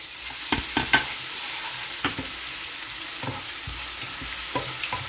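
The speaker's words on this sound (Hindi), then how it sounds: "प्याज अब ब्राउन हो चुके हैं, अब इसमें हम अदरक लहसुन डाल देंगे।" Ginger and garlic sizzling in hot oil with browned onions for egg biryani, a steady close frying hiss punctuated by several sharp scrapes of a stirring spoon against the pan.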